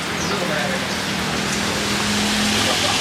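Dense, steady hiss of heavy rain pattering on a surface in Bali, close and loud throughout, with faint background noises beneath.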